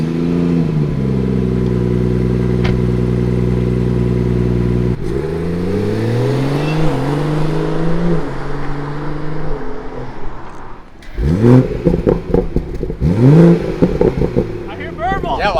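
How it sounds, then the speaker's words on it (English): A BMW on its stock exhaust idles steadily, then its engine revs up and falls back several times close by, followed by people talking over the engine. "Let me show you what I mean by the exhaust."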